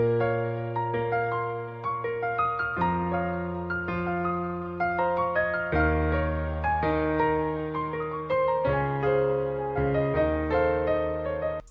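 Melody played on a bright grand piano sound in FL Studio for a hard-style beat, clear sustained notes and chords moving steadily with no voices.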